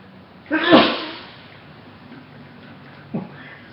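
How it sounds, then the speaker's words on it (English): A single sharp, explosive human sneeze bursts out close to the mic, fading quickly, followed a few seconds later by a brief smaller breathy sound in an otherwise quiet room. "can you control your sneezes?"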